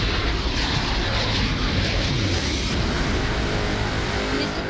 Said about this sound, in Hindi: इस दौरान इंडियन एयरफोर्स के जाबाजों ने तरह तरह के करतब दिखाए।